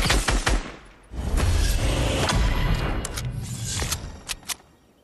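Shotgun blasts ring out in a video game, a cluster of sharp, loud reports at the start and a few more near the end, with a rumbling stretch of game noise between them.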